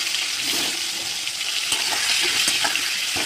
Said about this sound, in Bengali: আলুটা ভেজে নিয়ে তারপরে আবার চলে আসছি।